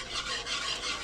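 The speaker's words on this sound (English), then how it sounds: "I'm going to keep having to come back and whisk away." A whisk beats gravy for poutine in a pot, giving a close, steady rasping swish that swells in a regular rhythm of strokes, with no voices.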